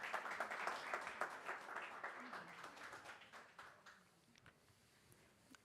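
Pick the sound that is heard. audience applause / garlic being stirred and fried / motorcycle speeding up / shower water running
audience applause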